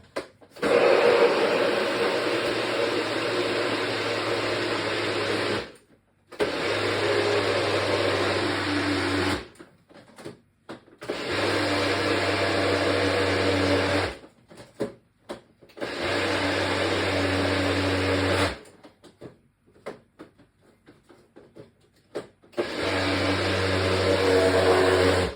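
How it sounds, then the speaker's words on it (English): An electric blender whirs through beetroot and ginger in loud, steady bursts of a few seconds each, separated by short pauses, the motor's hum and grinding churn dominating between brief silences. "it wasn't a long blend, but I think it's still all right"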